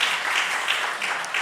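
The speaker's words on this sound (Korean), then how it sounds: "우리 박수로 환영해 주시기를 바랍니다." Congregation in a Korean church applauding to welcome a visiting pastor from Mongolia, a steady wash of many hands clapping throughout with no pauses.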